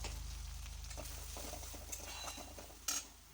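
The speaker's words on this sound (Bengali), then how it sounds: "এবার আমরা পেঁয়াজের সঙ্গে পেস্টটা ঢেলে দেব, দিয়ে খানিকক্ষণ নাড়াচাড়া করে নেব।" Spice paste is stirred into frying onions in a pan for a cauliflower and prawn dish, giving a quiet, continuous sizzle with soft scraping and a sharper utensil clink near the end, without talk.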